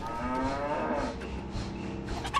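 A cow lets out one long, deep, sustained moo, loud and close, heard alone.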